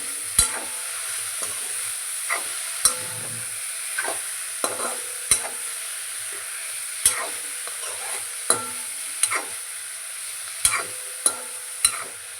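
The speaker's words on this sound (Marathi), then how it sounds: "मस्त खमंग तेलात चांगला परतून घ्यायचा आहे" Spinach sautéing in hot oil with a steady soft sizzle, punctuated by sharp clicks and scrapes of a spatula stirring against the pan at irregular intervals.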